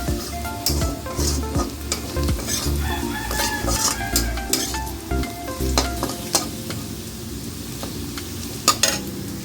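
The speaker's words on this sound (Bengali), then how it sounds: "আমার পেঁয়াজ লাল লাল করে ভাজা হয়ে গেছে" Chopped onion and garlic fry in hot oil in a pan, browning for a fish-head lentil dal. A steady, close sizzle runs throughout, with frequent scraping and clanking from stirring.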